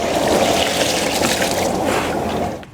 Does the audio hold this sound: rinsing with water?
yes